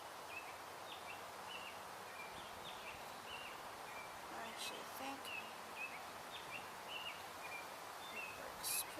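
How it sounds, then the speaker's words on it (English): Chatty birds chirp and call outdoors, a steady stream of small repeated chirps over a soft rustling background, moderately distant and fairly constant throughout. "Wow, those birds are chatty."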